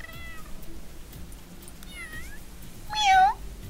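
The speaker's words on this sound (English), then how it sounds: "Meow." A cat meows in The Sims 3 video game: three short, clear meows, with the last one the loudest, over a quiet background hum.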